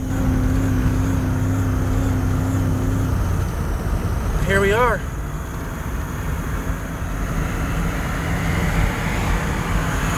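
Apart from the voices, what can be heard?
old parts truck engine running while driving home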